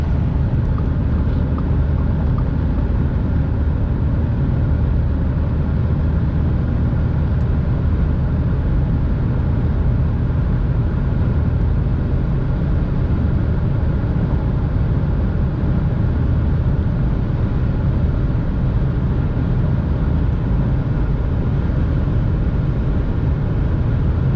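An Audi B8 on the highway accelerates toward top speed, its engine drone mixed with a dense, steady roar of road and wind noise that holds loud and unbroken throughout.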